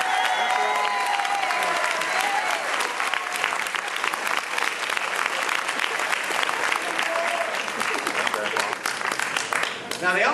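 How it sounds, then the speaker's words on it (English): A crowd applauds the athletes' parents at a Harvard signing day event, with sustained, dense clapping that stays loud and even for the whole stretch, close and full, with faint voices mixed in. "Can we give their parents a round of applause?"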